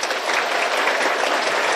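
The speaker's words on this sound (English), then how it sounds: "现在让我们以最热烈的掌声，欢迎中华民国台湾赖清德总统致辞" A banquet audience in Hawaii welcomes Taiwan's President Lai Ching-te with loud, sustained applause, a dense wash of clapping with no break.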